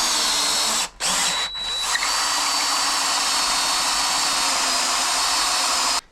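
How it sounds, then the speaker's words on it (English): A power drill bores out a hole in a support bracket for a Segway Ninebot GoKart Pro storage rack, a loud, steady whine broken by two brief dips early on as the bit catches, then a smooth run until it stops. "So just go ahead and start drilling this out."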